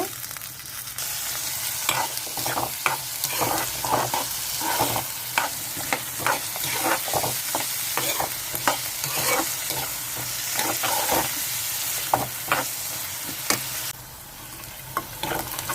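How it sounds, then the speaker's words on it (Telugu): Onions and green peas fry in a pan for a brinjal curry, a steady close sizzle punctuated by frequent metallic scrapes and knocks of a stirring spoon, without any speech. "వేగిపోయినాయండి ఉల్లిపాయలు బఠానీ కూడా"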